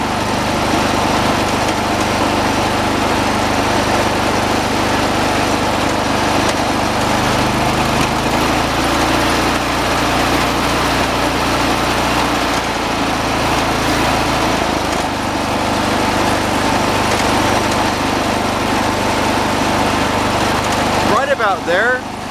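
A John Deere 216 lawn tractor engine runs at a steady, loud, buzzing idle and then throttles up and holds the higher speed, close by, with no talk over it.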